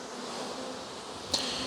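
Honey bees swarm and buzz around a spot they are picking for a hive on a sunny day, a steady close hum with one sharper burst near the end.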